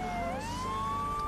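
A police siren in the video game GTA III wails loudly and steadily, its pitch sliding upward and holding, with no voices.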